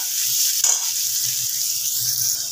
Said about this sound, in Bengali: পেঁয়াজটা দিয়ে খুব ভালো মতন ভেজে নিতে হবে।